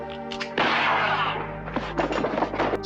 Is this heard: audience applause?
no